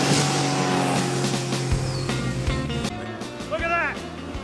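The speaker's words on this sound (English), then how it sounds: "it was a two-stroke engine on full throttle." A two-stroke engine runs flat out at full throttle, a steady loud drone that continues throughout while voices talk over it and other sounds mix in.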